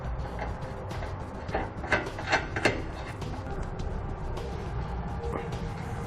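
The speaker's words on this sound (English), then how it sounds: "on the other side, we're going to secure them with the flange nut" Flange nuts are threaded onto the bolts of a Curt trailer hitch receiver being installed under a 2013 Chevrolet, with close metallic ratcheting clicks and scraping hardware noises over a steady low background rumble.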